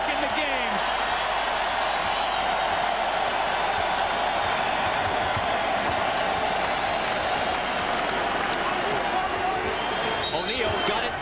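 Dense, steady crowd roar fills an NBA Finals game between the Pacers and Lakers at the Lakers' arena, a continuous loud wash of voices with squeaks and bounces mixed in, holding level throughout.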